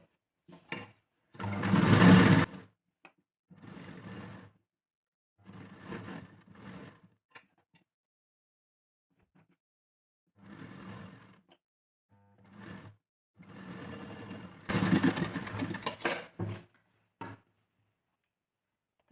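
Sewing machine stitching a blouse neckline, several short bursts of rapid mechanical whirring separated by pauses, close and clear with no talk.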